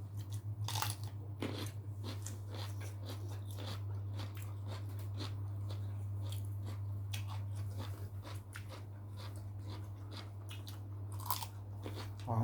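Someone chews crunchy food close up, with repeated crisp bites and crunches over a steady low hum.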